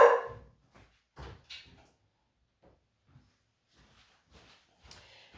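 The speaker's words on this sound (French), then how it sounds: "À chaque fois, il faut qu'il aboie." Indoors, a dog lets out one loud bark at the mail carrier, followed by quieter scattered yips and small sounds separated by stretches of near silence.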